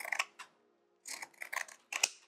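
Pinking shears snip through the fabric seam allowance of a travel clutch, notching the curves as they go: a few close, crisp cutting bursts with a brief pause between the first pair and a quicker later run.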